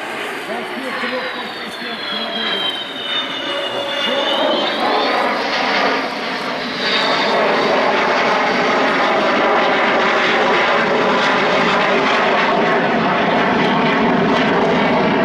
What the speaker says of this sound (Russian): Летают самолеты.